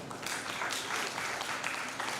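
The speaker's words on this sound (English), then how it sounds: "A big round of applause to ma'am." A pharmacy college conference audience applauds after a presentation, a dense, steady wash of many hands clapping throughout, fairly close and without pauses.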